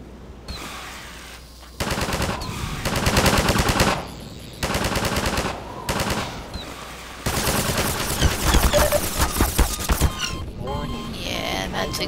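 Gunfire in the video game Half-Life 2, with long bursts of rapid automatic fire broken by short pauses, loud and dense, and a voice talking under the shooting.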